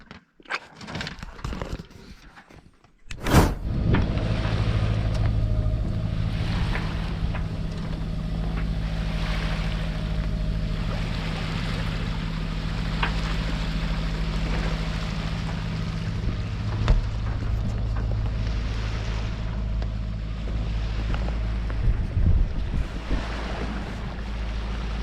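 A sailboat runs on its engine at sea in calm, windless conditions near Santa Maria in the Azores, a steady low motor drone under wind noise and wash of water, continuous after a sharp knock at the start.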